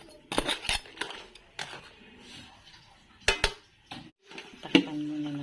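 Utensils clink and scrape against a pot while jackfruit simmers in coconut milk with crab, a few sharp metallic knocks scattered through quieter stirring, close and fairly loud.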